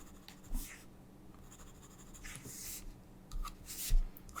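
Pencil sketching on sketchbook paper while drawing a lion's mane, light strokes with the pencil held back from the tip, soft scratchy bursts coming in short separated flurries, close and quiet.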